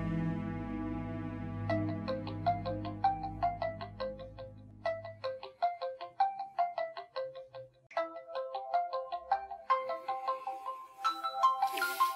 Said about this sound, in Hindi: इस वक्त किसका फोन आ गया?